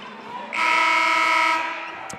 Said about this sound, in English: And the buzzer sounded accidentally as Joseph was down low on Lindsay.